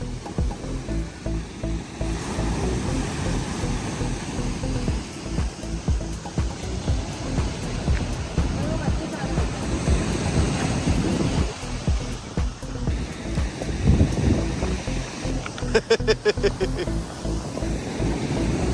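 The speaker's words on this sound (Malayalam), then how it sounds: "ഇതാണ് നമ്മൾ ആ ഫോട്ടോയിൽ കാണുന്ന വാട്ടർഫോള്" Water from the Hayburn Wyke waterfall near Scarborough keeps up a steady, broad rushing roar, roughened by gusts of wind on the microphone, while people talk now and then over the constant flow.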